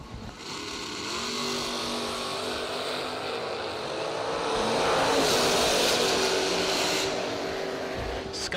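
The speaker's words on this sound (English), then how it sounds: "Scott McCormick on the left side goes 608 at 112" Loud, steady roar of a dragster making a drag strip pass, engines swelling to a peak midway and fading slightly toward the end, with no talk over it.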